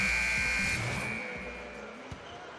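Basketball game buzzer in NBA 2K13, Sacramento Kings versus Cleveland Cavaliers, a loud sustained electronic tone at the start that fades out within about a second, followed by quieter arena ambience.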